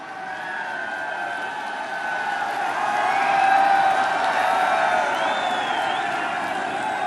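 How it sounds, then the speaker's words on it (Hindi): A large audience applauds and cheers to welcome the Prime Minister, Narendra Modi, at a public event in Varanasi, a broad sustained wash of clapping that swells in the middle and stays steady throughout. "आप सबकी जोरदार तालियों के साथ"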